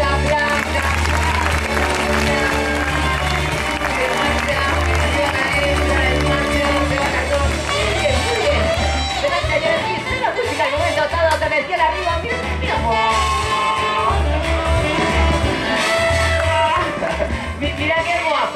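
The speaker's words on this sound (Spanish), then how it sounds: "venga, aplausa, aplausa" Audience applause at an outdoor event in Porto Judeu, a dense sustained clapping with crowd noise mixed with music and a voice over it.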